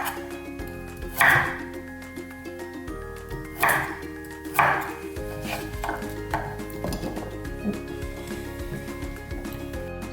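Carrots being chopped on a cutting board while Hungarian goulash is prepared, with a few separate knife strikes standing out over a steady background hum and some tonal noise.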